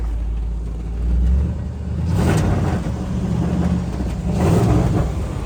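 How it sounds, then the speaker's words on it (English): A 1956 Chevrolet 210 with a V8 and Sniper EFI idles nearby, a steady deep rumble with a couple of gentle swells in revs, heard alone without talk. "Got that nice V8 rumble."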